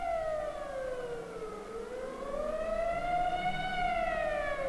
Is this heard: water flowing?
no